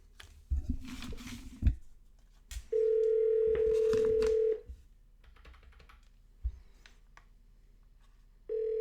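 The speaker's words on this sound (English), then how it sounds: "Let's see if he picks up the phone." A phone rings out on the line: a steady, loud electronic tone holds for about two seconds, goes quiet, then starts again. A few short clicks come first.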